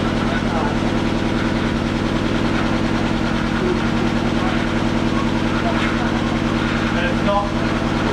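A turbocharged Toyota 1UZ-FE V8 idles steadily right after its first start, a continuous low rumble running close and loud throughout, with voices talking over it.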